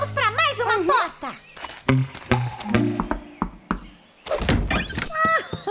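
A cartoon door opens with a hollow thunk among lively animated voices and bouncy music, one brief knock-like impact standing out clearly between bursts of talk.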